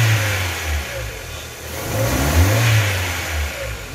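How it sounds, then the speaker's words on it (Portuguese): A misfiring Ford Fiesta 1.0 8v engine revs unevenly, its low rumble rising and sagging with a rough, stumbling rhythm, close and loud without speech. "Vamos acelerar aqui, ó. Olha rateando, ó."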